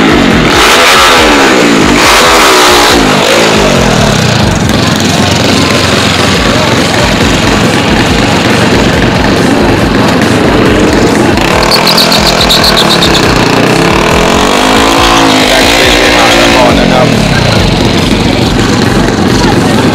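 A Y PE23 horizontal-cylinder engine with original stroke runs loud and close, holding a steady rough chug that swells in a few revving surges over the full stretch.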